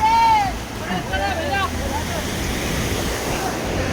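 Vyagreshwar waterfall at Manche, Devgad, with plenty of water, gives a steady, close rushing roar throughout; thin tonal calls or voices ride over it in the first couple of seconds.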